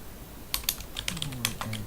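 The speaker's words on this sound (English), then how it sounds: "I will be typing in my password" A short burst of computer keyboard typing, a handful of crisp key clicks close by, with faint murmuring underneath.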